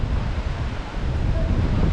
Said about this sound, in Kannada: ಗಾಳಿ ಸರಿಯಾಗಿ ಗಾಳಿ ಬರ್ತಿದೆ